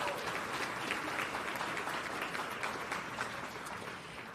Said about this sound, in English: Give Marianne a round of applause.